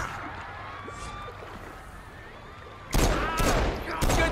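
Gunfire aimed at someone breaks out as a few loud, close bursts of shots after a stretch of quiet background ambience, with no voices heard.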